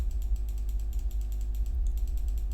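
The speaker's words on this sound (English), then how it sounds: "that was a waste of 5 minutes just clicking this button" A computer mouse button is clicked over and over in a quick, steady run of light taps, close and clear over a low background hum.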